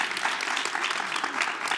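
A conference audience applauds at a political conversation event, steady dense clapping throughout at moderate loudness.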